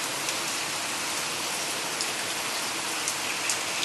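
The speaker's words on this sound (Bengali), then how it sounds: "এই যে প্রচন্ড বৃষ্টি এখানে।" Heavy rain pouring outside a home, a dense, even hiss of drops on surfaces with small spatters, close and steady throughout with no voices.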